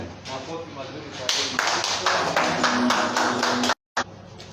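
Church congregation clapping after a prayer, a burst of rhythmic claps starting a second in and continuing steadily until a brief cutout near the end, with voices talking underneath.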